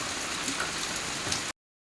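Steady rain patters and hisses on surfaces, a dense even wash of drops with no voices.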